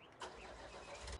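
A truck engine in Farming Simulator 19 cranks and catches, then holds a steady, fairly loud rumble with a deep low-end surge near the end, with no talk over it.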